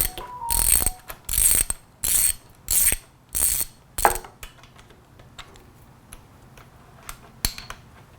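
A ratchet turning a 12mm socket to remove a bolt from a Honda CRF50 gas tank: six crisp rhythmic bursts of close pawl clicking, followed by a few faint isolated ticks in a quiet room.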